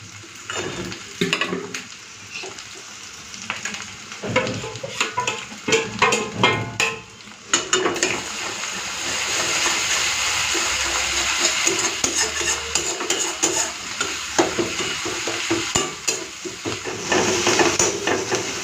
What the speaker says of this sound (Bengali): পেঁয়াজটা পুরো লাল করে ভাজা হয়ে গেছে